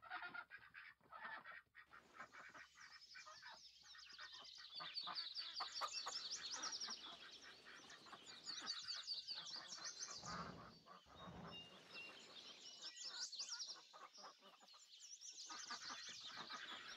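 A duck in the Farming Simulator 22 video game quacks and honks repeatedly across a busy, fairly loud stretch, with overlapping calls and some background game noise.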